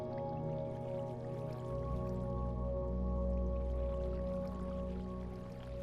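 Steady, quiet trickle and gurgle of flowing water in a Minecraft mob farm drop chute, a continuous low wash under faint background tones with no talking.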